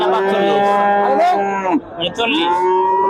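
Cattle moo at a calf market. Two loud, close, drawn-out calls come from a cow or calf, with the second rising and bending in pitch.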